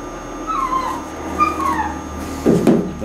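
Dog whimpering in short high whines indoors, a few thin cries spaced across the moment, ending in a louder yelp-like burst near the close; no one speaks.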